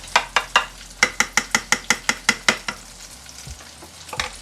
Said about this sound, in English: I usually stir with the spoon upside down